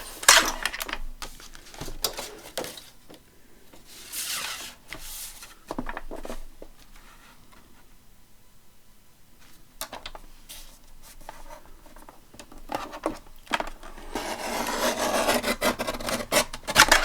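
A paper trimmer slices paper for a handmade journal. Several dry, rasping cuts sound close, with quieter rustling and handling between strokes and a longer cutting pass near the end.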